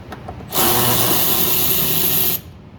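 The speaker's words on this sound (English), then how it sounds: "now I can use my power tools" A power drill whirs loudly for about two seconds, a steady high-pitched motor whine that starts and stops abruptly, with no talking, while replacing the wiper transmission on a Chevy Cruze.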